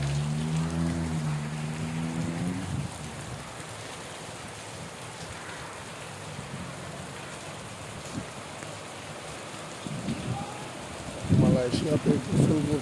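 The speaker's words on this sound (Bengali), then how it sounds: "মালয়েশিয়াতেও বৃষ্টি হচ্ছে।" Heavy rain falls in Malaysia as a dense, steady hiss of drops, with a voice briefly audible at the start and again near the end.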